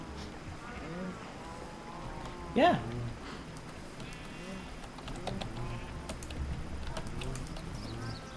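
A Minecraft sheep lets out a single short bleat partway through, rising clearly above a quiet background of game sounds while players chat nearby.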